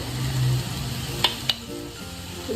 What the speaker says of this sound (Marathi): हे जे कोनोर बारीक केले होते ते टाकून द्यायचे